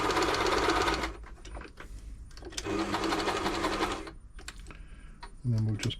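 A New Home L 312 sewing machine runs a stretch stitch in two rapid whirring bursts, its motor chattering loudly, with a voice speaking in the pause between.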